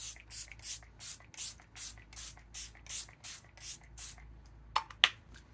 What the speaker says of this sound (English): This is the Lock It In setting spray, and it has peptides and niacinamide in it.